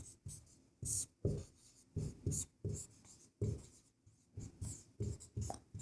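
Pen or chalk writing out a maths solution on a surface, quiet scratchy strokes in short irregular bursts with brief gaps between words, close and alone.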